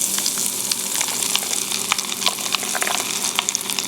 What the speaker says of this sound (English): So the popping sound is made from the baking soda releasing carbon dioxide, just like carbonation in pop.